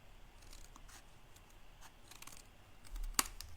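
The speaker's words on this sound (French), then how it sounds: "Je reprends le tout pour venir à l'endos, pour venir découper, suivre le triangle." Scissors cutting paper along a triangle for a handmade explosion box, heard as quiet close snips and rustles with one sharper cut near the end.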